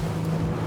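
A Salpa Soleil 24.5 RIB running at about 20 knots in choppy water during a wide turn, its outboard engine giving a steady, continuous drone with rushing wind and water noise close by.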